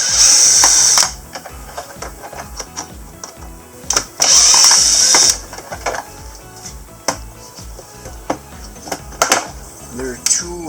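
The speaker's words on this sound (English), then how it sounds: "Just take the two screws out to take the handle off" Screws being backed out of the handle on a pancake air compressor that won't shut off, giving repeated ratcheting clicks and tool whirs in short bursts, fairly close, with some louder broadband bursts between.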